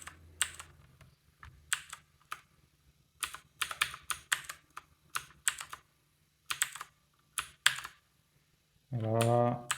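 Keys clack in sharp, uneven bursts on a Battletron mechanical keyboard with blue switches, close and fairly quiet, with a short hum near the end.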